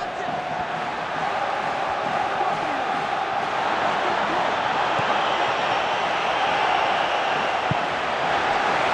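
Stadium crowd at San Siro in a PES football video game during an Internazionale versus Spartak Moskva match, a loud, continuous roar of massed spectators that holds steady throughout.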